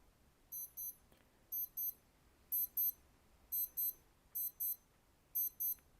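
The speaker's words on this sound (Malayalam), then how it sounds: "ഇപ്പോൾ 2:20 2:21 ആകുമ്പോൾ അലാം അടിക്കും." A Casio F-91W digital watch alarm sounds in thin, high electronic beeps grouped in quick pairs, six pairs repeating at a steady one-second rhythm, close and clear over a quiet background.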